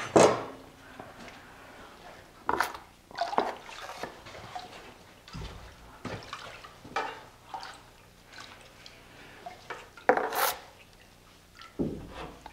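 A 6-inch drywall knife scrapes and spreads joint compound over taped drywall, giving intermittent wet rasping strokes and soft slaps at close range in an otherwise quiet room.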